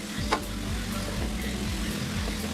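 Jamaican callaloo greens stirred in a pot over a steady sizzling hiss, with a few soft scrapes and one brief clink near the start, continuous and close with no voices.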